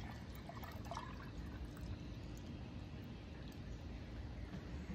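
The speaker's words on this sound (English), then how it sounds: "if I pour much faster, I've got more intensity" Water poured fast into a glass makes a steady, continuous splashing rush, fairly faint and unbroken for the whole stretch, with no voices over it.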